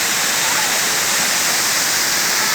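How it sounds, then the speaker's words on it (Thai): Water thunders down at Huai Mae Khamin waterfall in Kanchanaburi, Thailand, a loud, unbroken roaring rush that fills the whole moment. "ที่น้ำตกห้วยแม่ขมิ้นจังหวัดกาญจนบุรี"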